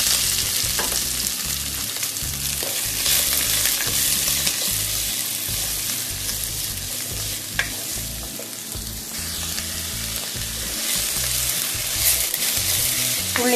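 Onions frying in hot oil with mustard seeds and curry leaves for a carrot and beetroot thoran, a steady, close, loud sizzle with occasional stirring scrapes and pops, no talking.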